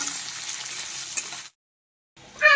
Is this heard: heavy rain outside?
no